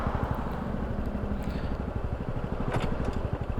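A Honda Super Cub engine runs steadily nearby, its fast pulsing exhaust throbbing through shifts, with a brief rise around a gear change and no talk over it.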